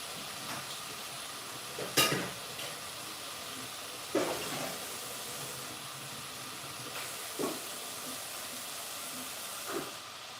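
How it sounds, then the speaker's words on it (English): Rice steams in a pot on a stovetop burner, a steady soft hiss broken by a few brief clinks and knocks at irregular intervals, with no talking. "And then I'll put it back on the burner to steam"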